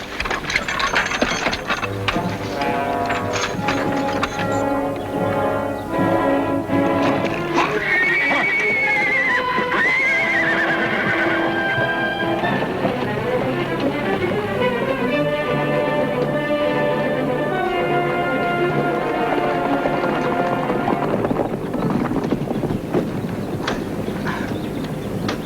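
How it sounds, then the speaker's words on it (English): Horses whinnying and neighing in a 1950s Western setting, with hooves clip-clopping, harness jingling and a continuous rumbling rush of movement throughout, fairly loud and close. "All right, Ed, unhook the horses."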